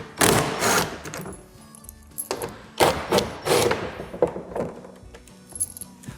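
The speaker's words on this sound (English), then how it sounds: "If I remove that, this panel will come off and we can show you what's behind." A bolted plastic panel is taken off a 2000-litre corrugated poly slimline water tank, giving a series of hollow knocks, clunks and scraping rattles at close range, uneven and moderately loud.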